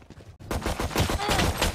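Alt fire from a gun in Valorant, a loud, rapid burst of shots that starts after a brief quiet gap and keeps hammering densely to the end.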